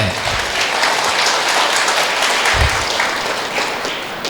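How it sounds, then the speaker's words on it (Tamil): Steady applause from students seated in a hall at a college inaugural function, dense even clapping that holds at one level throughout. "நல்லா தான் கைதட்டுங்களேன், சும்மா தானே உட்காந்துருக்கீங்க."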